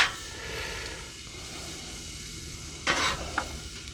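Beyond Burger plant-based patties sizzle faintly on a Blackstone griddle under a steady frying hiss, with a couple of brief metal spatula scrapes toward the end.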